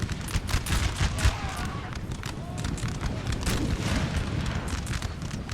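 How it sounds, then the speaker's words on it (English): Artillery in a Napoleonic Total War 3 battle, with 10-pounder cannons booming in dense overlapping volleys, a rough rumbling barrage of heavy shots layered with battle din throughout. "the artillery is just brutalizing them"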